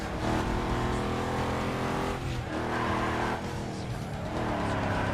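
Loud racing car engine in the video game Need for Speed Underground 2 roaring steadily with harmonic whine, pitch shifting as it revs and eases through a drifting turn, constant and close.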